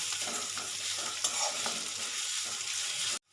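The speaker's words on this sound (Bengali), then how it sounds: "দেব কুচিয়ে রাখা পেঁয়াজ, দেব কাঁচা লঙ্কা কুচি। এবার এটা আমি সুন্দর করে 1 মিনিট কষে নেব।" Chopped onion and green chilli sautéing in a pan after a cumin tempering, a steady close-up sizzle with occasional stirring scrapes, cutting off abruptly at the end; no talking.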